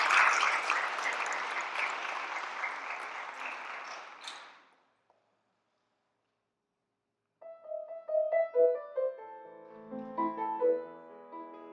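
Audience applause welcoming a pianist to the stage at an evening vocal and piano recital; dense steady clapping fills the first four seconds, then fades to silence before piano notes begin.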